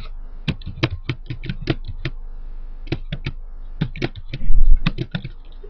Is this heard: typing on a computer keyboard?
yes